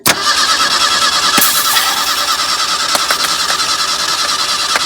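A loud Ford Ranger square-body truck engine cranks continuously for several seconds, a steady grinding whir with small irregular clicks, turning over without catching.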